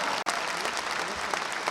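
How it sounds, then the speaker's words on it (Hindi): An audience claps at a Hindi poetry recital, with dense, fairly close applause that fills the moment, briefly cut off near the start and then continuing evenly. "भाई तालियां थोड़ी कम है क्या?"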